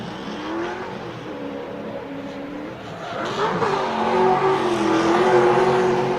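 A drift race car idles and revs at the start line during grassroots qualifying, its engine droning and rising in pitch as the throttle builds, loud and close with no one talking.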